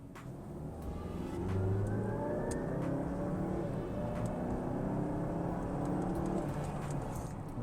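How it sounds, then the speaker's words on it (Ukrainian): 2018 Mazda CX-9 with its 231-horsepower turbocharged engine accelerating, a muffled rising engine hum heard from inside the cabin that swells and holds steady. "Давайте газу."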